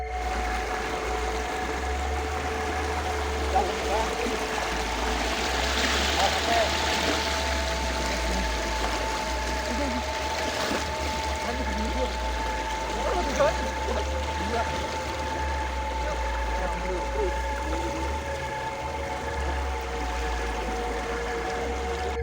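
Fast-flowing river stream rushing steadily through the Cisadon trail while motorbikes, including Suzuki and Yamaha DT machines, are pushed and pulled across; constant broad water noise with low engine hum and faint voices underneath.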